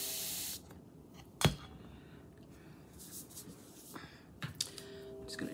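A spray bottle spritzes coral paint onto a Valentine's craft project: a strong hissing burst at the start, followed by quieter scattered spritzes and handling noises, with no one talking.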